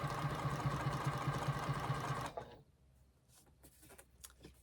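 A sewing machine runs steadily, stitching a machine-sewn ring around the roof of a van, loud and continuous for about two seconds before stopping, followed by faint handling noises.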